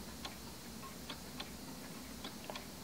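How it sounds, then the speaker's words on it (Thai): A wind-up antique pendulum wall clock that is out of beat ticks faintly and unevenly, its clicks spaced irregularly over a soft background hiss. "จะสังเกตได้ว่าเสียงเดินเนี่ยครับติ๊กตอกติ๊กตอกเนี่ยมันไม่เสมอกันลองฟังดูครับ"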